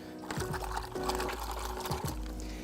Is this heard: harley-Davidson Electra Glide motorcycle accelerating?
no